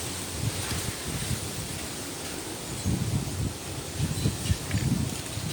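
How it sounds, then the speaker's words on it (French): Steady wind at the seaside in Thailand blows and buffets the microphone with a low rumble and rustling, swelling in a few gusts during a thunderstorm, with no voices. "Écoutez ce vent."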